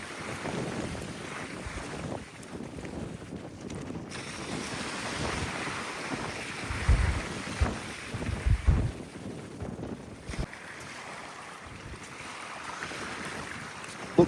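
Blustery wind buffets the microphone while waves wash onto a beach, a continuous rushing roar with occasional stronger gusts and no one speaking.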